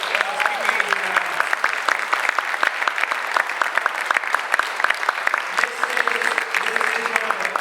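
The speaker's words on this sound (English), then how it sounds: "let's give a big round of applause for Speaker Adrian Adams" An audience in a legislative chamber applauds Speaker Adrian Adams with brisk, sustained clapping and some voices mixed in underneath, heard up close and fairly loud.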